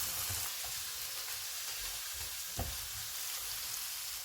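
Soft, steady sizzle of black pepper, salt, chili powder and chili sauce frying in a pan for Gobi Manchurian, a continuous faint hiss with one small stir or clatter partway through, no voices.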